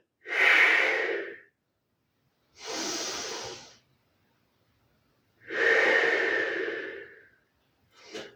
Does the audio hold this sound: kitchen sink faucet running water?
no